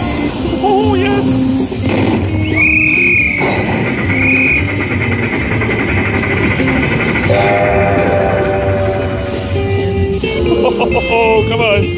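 Train sound effects from a Midnight Express slot machine in a casino, with a rumbling rail loop, whistle-like tones and electronic chimes played continuously and loudly.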